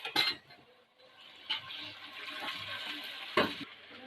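Ginger paste hits a hot frying pan while cooking aloo korma, giving soft sizzling with a few sharp scraping stirs and clatters, fairly quiet and close, with no talking.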